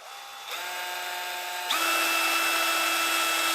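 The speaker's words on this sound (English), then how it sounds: "Let's drill a few more holes here." A power drill bores holes through a tough OEM motorcycle windshield, its steady whine loud and close, stepping up in pitch and intensity twice as the bit works through the screen, with no talking.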